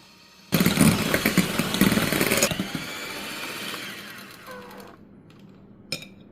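An electric mixer beats room-temperature egg whites with gradually added sugar toward stiff peaks, a loud buzzing whir that starts abruptly, eases off over a few seconds, then gives a brief final burst.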